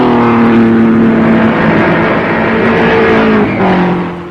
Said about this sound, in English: Speeding cars are always a thrilling spectacle, and these crowds had little thought of danger as the cars sped by at speeds well over 100 miles an hour.